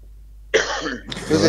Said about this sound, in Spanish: para que puedas toser tranquilo